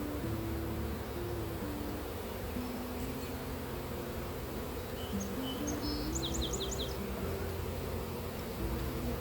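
Dense buzzing of many honeybees around a small hive during a hive split, a steady droning hum filling the whole stretch outdoors, with a few faint bird chirps high above it.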